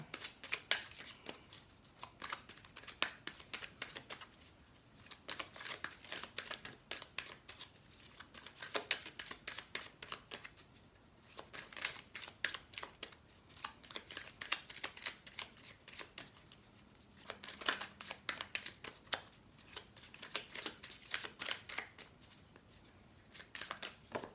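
Tarot cards being shuffled in repeated bursts of dense riffling and slapping, with short pauses between rounds, close and clear with no talking.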